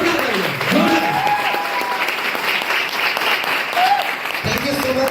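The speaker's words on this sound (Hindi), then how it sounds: "जोरदार तालियां" Loud, sustained applause from a crowd, dense and continuous throughout, with some voices rising briefly over the clapping.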